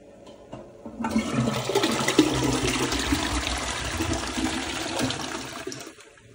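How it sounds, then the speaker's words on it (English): A toilet flushing close by, starting abruptly with a loud, steady rush of water that lasts several seconds before tapering off into quiet. "Now I'm throw you in the toilet and then flush it."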